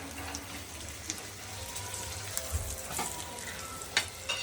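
Prawns frying in hot oil give a steady, soft sizzle with faint crackles and a few sharp pops, heard close and alone with no talk.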